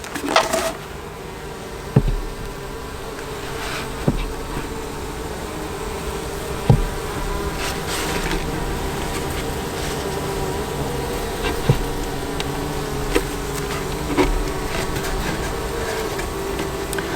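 Honey bees at a backyard hive during super installation, a constant buzzing drone throughout, punctuated by several sharp knocks and clicks of hive equipment, no talk.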